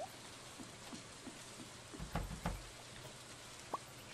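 Rain falling in the Stardew Valley video game, a soft steady patter with a few brief louder splashes, quiet and continuous with no talking.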